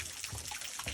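A small trailside waterfall trickles and splashes faintly in the distance, soft continuous running water with light dribbling accents.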